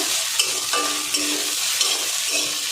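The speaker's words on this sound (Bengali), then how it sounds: "ধনেপাতা দিয়ে ডিমটা একটু ভেজে নেব" An egg fries in a pan with coriander leaves, giving a loud, steady close sizzle with a few light scraping taps from stirring, no voices.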